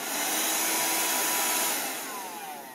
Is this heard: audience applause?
no